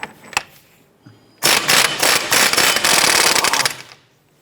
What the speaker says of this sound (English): Using a 34mm socket, we're going to go ahead and remove our axle nut here.